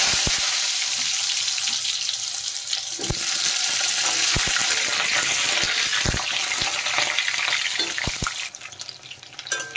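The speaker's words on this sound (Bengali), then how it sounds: "প্রথমে আমি পটলগুলো ভেজে নেব।" Pointed gourd pieces frying in hot mustard oil make a loud, steady sizzle, close by, broken by sharp crackles and pops throughout, with no voices.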